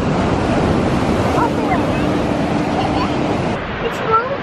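Ocean waves and wind roar steadily on a Hawaii beach, a dense, loud wash of surf with buffeting wind noise against the microphone and no clear breaks.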